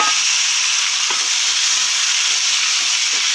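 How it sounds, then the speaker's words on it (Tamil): Onions and tomatoes fry in oil in a pan while being stirred, giving a loud, continuous sizzle with a few faint spoon scrapes. "நல்லா கிளறி விட்டுலாம் நல்லா வதங்கட்டும்"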